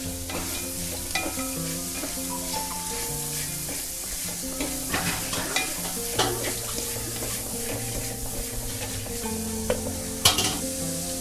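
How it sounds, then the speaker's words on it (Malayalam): Kerala red spinach cheera thoran stir-frying in a pan, a steady close sizzle with scraping and stirring clatter throughout, a sharp knock near the end, no talk. "ഇനി നമുക്ക് ചീര ഇതിനകത്തോട്ട് ഇട്ട് കൊടുക്കാം."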